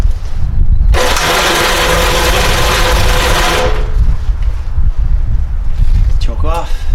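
A 1965 Gravely L8 tractor engine cranks with a loud, rapid chugging whir for about three seconds without catching, then stops. Afterward comes a quieter background with faint clunks and a short voiced sound near the end.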